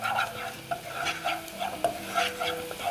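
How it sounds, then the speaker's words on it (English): Garam masala being stirred into a frying pan of spices over medium heat for muttar chawal: a spoon scrapes in a steady rhythm over a soft, continuous sizzle, close and fairly quiet. "Now add in the garam masala and give that another stir."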